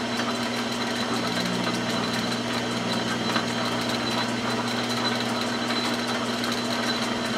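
A lathe cuts threads on a Remington rifle barrel with oil applied, giving a steady mechanical whir and a low hum at constant level, close by and without pauses or voices.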